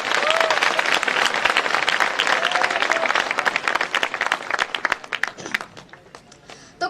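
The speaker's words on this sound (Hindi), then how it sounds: "एक बार तालियां बजाकर" Lecture audience in a hall clapping together in a dense, sustained round of applause that thins out toward the end into scattered claps.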